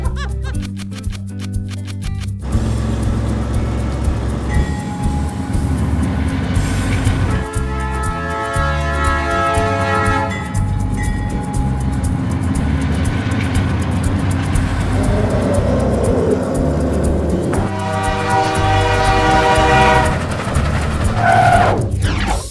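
A game soundtrack rumbles on while an electronic carrot train rolls closer in a video game, its rhythmic clatter and whistle-like tones building over steady low engine noise.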